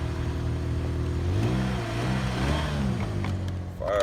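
A cheap Saturn car's engine catching and settling into a steady idle hum with rising and falling revs, close by, a rattle creeping in toward the end.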